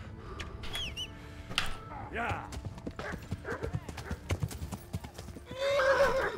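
Rapid hoofbeats clatter along with a horse's whinny at the end in the video game Kingdom Come: Deliverance, while a person shouts over the galloping.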